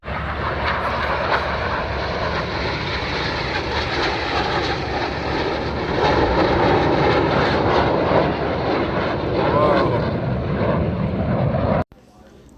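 Military jet at an air show in Chesterfield, Missouri taking off at maximum power with 7,000 pounds of thrust, a loud sustained roar that swells midway before cutting off abruptly near the end.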